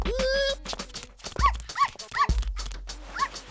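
A dog whimpers and yelps in a cartoon, high rising whines repeated several times in quick succession, close and fairly loud with short gaps between them.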